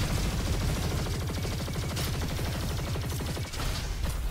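A Typhoon minigun in the shooter game Roboquest fires in one unbroken, rapid, dense stream, with explosions mixed into the loud, steady barrage.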